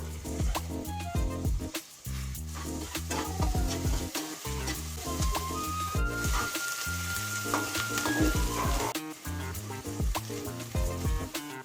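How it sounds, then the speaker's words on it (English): Chopped onion frying in hot oil with ginger and garlic for matar nimona, a steady loud sizzle broken by repeated stirring scrapes and clinks throughout, with brief quieter gaps. "Now we will add finely chipped onion."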